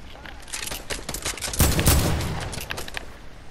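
Sniper rifle shots in a first-person shooter video game, a few sharp cracks amid busy game noise, with the loudest burst about halfway through.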